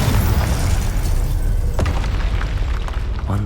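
A Confringo fire spell explodes in the Hogwarts Legacy video game, a loud, dense boom that stays heavy and rumbling throughout, with a few crackling bursts near the end and no talking.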